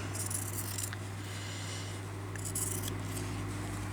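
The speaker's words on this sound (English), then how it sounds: "I'm just going to trim off the fabric." Scissors trimming the excess fabric from a stitched wonky-house journal cover, giving a quiet, steady snipping and rustle over a constant low hum, with a few slightly louder cuts near the end.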